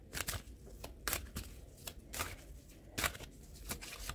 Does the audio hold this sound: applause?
no